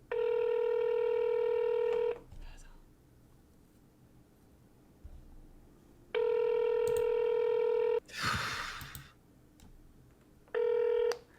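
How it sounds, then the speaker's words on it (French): Telephone tones on a call to a Swiss phone number: loud, steady electronic tones about two seconds long repeat with quiet gaps, and a short noisy burst falls between two of them. "Là, je rappelle le numéro suisse"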